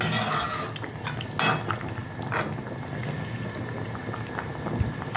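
Shukto curry with bori simmers in a pot, bubbling and popping steadily, with a few louder splutters and faint utensil clinks near the start and no voices.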